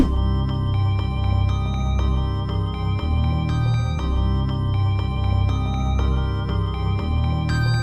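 Bright synthesized notes start and stop cleanly one after another over a deep sustained bass, producing a layered, steady electronic passage.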